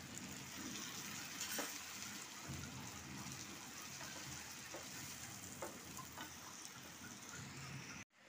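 A spice paste of yogurt, chilli and turmeric sizzles over onions in a pan, a faint even frying crackle with a few soft spatters, ending in a sudden thump.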